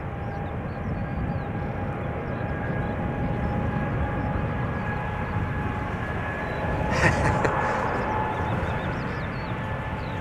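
A KLM Boeing 787-10 Dreamliner, three years old, spools up its jet engines for departure at Amsterdam Schiphol, a steady broad roar with whining tones and a brief surge partway through.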